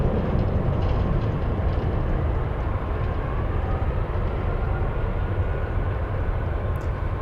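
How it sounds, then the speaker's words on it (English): Boeing 747 cargo jet taking off at Anchorage airport, a loud sustained broadband jet roar rumbling steadily throughout without voices. "back-to-back 747 takeoffs"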